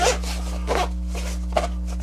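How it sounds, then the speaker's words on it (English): A zipper on a small drawing-tablet carrying case is pulled closed in a few quick, raspy strokes, close by, over a steady low electrical hum. "Zips up nice and secure"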